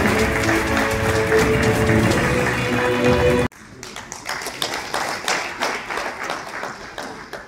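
Audience at a felicitation ceremony gives loud, dense applause, then the clapping drops sharply partway through to a thinner, quieter patter of individual claps that continues to the end.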